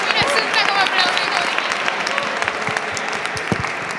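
Audience applause at a library book talk, a dense patter of many hands clapping steadily throughout, with scattered sharper claps standing out and voices mixed in beneath.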